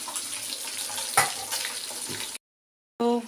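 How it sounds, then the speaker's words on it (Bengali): Close hiss and crackle of fish frying in a pan with one sharper burst, then a brief silence and a clipped fragment of another sound. "এই মাছ ভাজা হচ্ছে"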